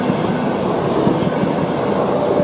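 An Italian high-speed passenger train on the Milan–Rome–Naples route rushes along the rails with a loud, steady roar and rumble, and no other sounds break through it.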